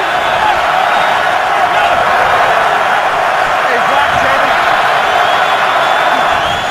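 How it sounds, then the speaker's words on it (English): A packed NFL stadium crowd at a Bengals–Chiefs game roars loudly and continuously before a third-down snap, a thick sustained wall of cheering, with a commentator talking over it. "now the crowd very much into it"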